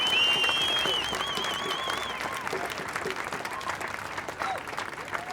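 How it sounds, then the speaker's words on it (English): Applause from a crowd at an outdoor anti-lockdown protest in New Zealand, a dense steady clapping that holds for several seconds and slowly thins, with a few voices and whistles rising above it. "Let's give them a round of applause."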